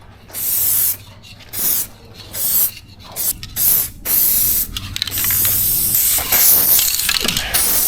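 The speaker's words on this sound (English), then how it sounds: "we're going to spray all these little tight areas that are hard to sand just as added protection so we have good adhesion for our clear coat" Spray gun applying Upol Grip No. 4 adhesion promoter to tight, hard-to-sand areas of a car body during auto painting, heard as repeated short hissing bursts of a few seconds each with brief pauses, close and loud, no talking.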